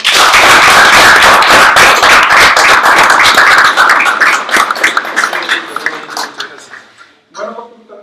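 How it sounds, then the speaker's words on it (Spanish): Academic talk audience breaks into dense, loud applause from the start, holding steady for about four seconds before thinning into scattered claps and fading out near the end. "yo les pido también que le den un aplauso"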